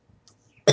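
A single loud cough close by, breaking a near-silent stretch with only faint rustles before it.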